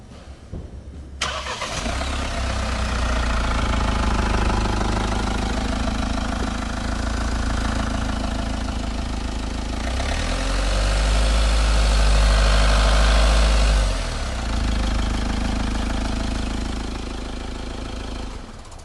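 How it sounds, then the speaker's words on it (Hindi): A 2021 Mahindra Thar diesel engine cranks and catches, then settles into a steady, loud idle with a low rumble that swells briefly before easing back. "आइए इंजन को स्टार्ट करके देखते हैं।"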